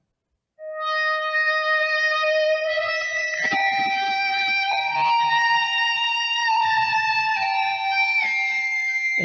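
A sustained Haken Continuum synthesizer tone that leaps between bright harmonics, with sliding pitch shifts and a few soft percussive ticks underneath.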